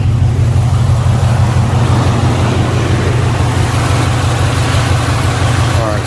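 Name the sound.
car engine idling with a slight tick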